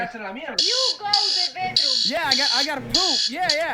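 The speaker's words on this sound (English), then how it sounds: "Sorry if you guys heard my alarm in the background" A fire-alarm-style buzzer sounds in loud repeated bursts, roughly every half second to a second, in the background while people talk over it.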